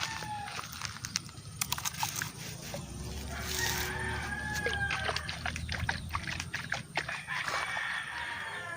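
Chickens cluck and a rooster crows outdoors on a farm plot, with faint scratching and rustling nearby, at moderate distance.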